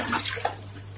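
A pump pulls water from the base of a Dutch bucket, giving a brief close gush of flowing, splashing water that lasts about a second.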